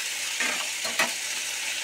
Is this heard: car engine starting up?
no